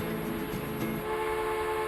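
A train in the video game Transport Fever rolls past with a steady rumble and a thin sustained horn tone that fades after about a second, holding at an even level throughout.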